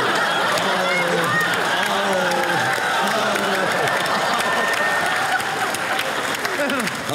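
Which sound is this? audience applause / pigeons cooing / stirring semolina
audience applause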